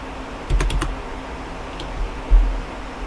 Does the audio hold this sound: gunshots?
no